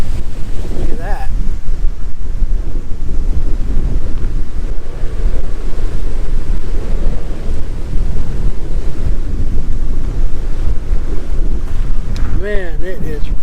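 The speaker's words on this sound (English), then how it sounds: "Man, it is very, very windy out here." Strong wind roars across an open campground, buffeting the microphone in a loud, continuous rush, with a brief faint whistle near the end.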